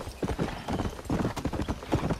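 Horse hooves gallop at a fast, steady clip-clop pace in the Red Dead Redemption: Undead Nightmare video game, the rapid beats clear and close with a brief whinny hint, no talk over them.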